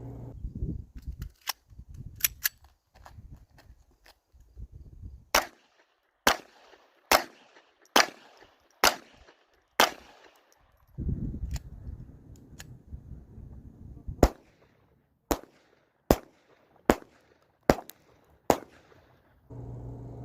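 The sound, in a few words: gunshots from Walther replica Colt Government .22 LR pistol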